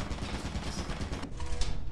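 A turret firing in Lethal Company, letting off a continuous rattling burst of rapid shots that cuts off briefly near the end before carrying on.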